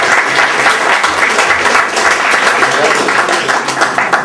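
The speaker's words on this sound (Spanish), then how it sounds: "Un aplauso, por favor" Steady, dense audience applause at a Spanish-language book presentation on Socrates, loud and continuous throughout with a faint murmur of voices underneath.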